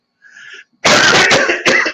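A short faint sound, then one loud, harsh cough followed by a second burst, close up.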